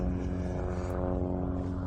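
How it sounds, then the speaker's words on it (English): A propeller airplane drones overhead in open desert, a steady, continuous low engine hum with dense harmonics that holds at even loudness throughout. "see what the planes up there is doing."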